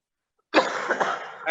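A man coughs loudly and close by in an indoor talk-show setting, a single rough burst followed by a few shorter coughs, with no speech over it.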